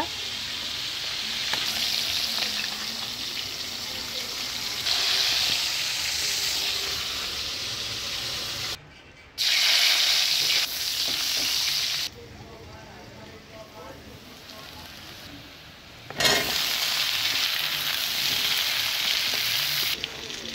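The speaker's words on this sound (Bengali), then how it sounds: "মাছটার ধারে যাওয়া যাচ্ছে না, এত ফাটছে মাছটা।" Salted fish fries in hot oil with a constant crackling sizzle and sharp spattering pops. A person talks over it in places.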